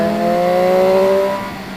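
A Triumph Street Triple 765 RS motorcycle with a full aftermarket exhaust system revs loudly and close by, its engine note holding steady then easing off, with no talk over it.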